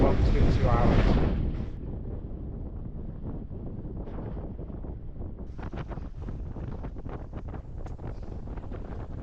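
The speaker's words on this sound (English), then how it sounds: "as we approach the gap between the islands, the wind starts to pick up again, and it's now gusting 30 knots" Strong wind gusting around a sailing boat in the gap between Scottish islands, blowing at about 30 knots, buffeting the microphone as a steady roar with sharper gusts after a brief burst of talk at the start.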